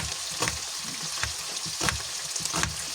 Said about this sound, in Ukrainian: Зараз хай ще трішечка там підсмажиться